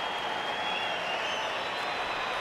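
Spectators at a South Africa versus India one-day cricket match applaud a batsman's half century at his home ground in Johannesburg; dense, sustained clapping from a large crowd, even and continuous throughout.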